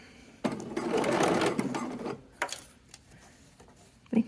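Domestic sewing machine stitching a baby garment seam at 5/8 inch: a fast, loud burst of motor whirring and needle chatter, then a few short stop-start runs and clicks, all close by.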